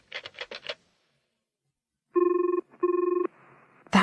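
A telephone rings with two long electronic trill bursts, a short gap between them, preceded by a quick run of button-press beeps, close and clear with no talk.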